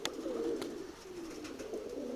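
A pigeon coos softly in a low, throaty, rolling call that swells and falls twice, with faint rustling in the background.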